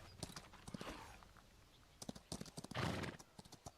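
Horse hooves clip-clop in the video game Chrono Odyssey, a steady run of hoofbeats broken by a short burst of movement, with a brief whinny, fairly quiet and with no talk over it.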